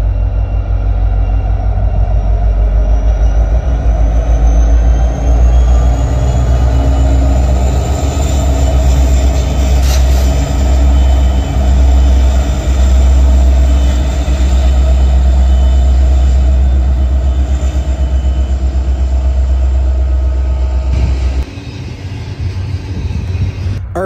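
Freight train trailed by locomotive NS 1072 rolling past at Vickers in northern Ohio, a loud continuous rumble of wheels and cars with a faint squeal, ending abruptly as the last cars clear.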